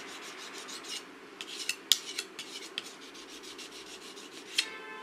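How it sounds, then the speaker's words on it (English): Rusty sashimi knife blade scraped back and forth across a small whetstone, a steady gritty rasping with sharper metallic scrapes cutting through at irregular moments, close and moderately loud. "And sometimes taking small areas of rust off the blade, that can take longer than actually sharpening."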